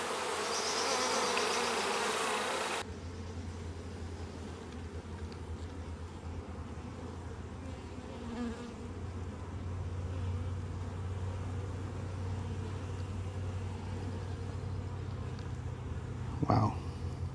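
Honey bees hum steadily at an opened hive during a frame inspection, a continuous low drone that fills the whole stretch, briefly louder and brighter at the start and with a short knock near the end.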